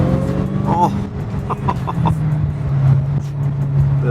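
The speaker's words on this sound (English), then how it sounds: "I love that supercharger whine" A 2022 Dodge Hellcat runs nearby, its supercharger whine a sustained tonal drone under the engine note, rising and holding steady, with people talking over it.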